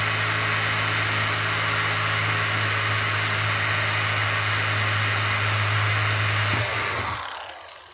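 A power drill boring holes into a plastic chicken waterer bucket, a loud, steady whirring drone held for several seconds before spinning down and stopping near the end, with no talk.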